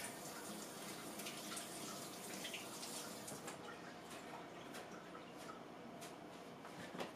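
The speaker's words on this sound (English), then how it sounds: "I gotta wash my hands." Hands being washed under a running tap in a kitchen sink, a steady broadband rush of water with small splashes and drips throughout, close and fairly loud, with no talking.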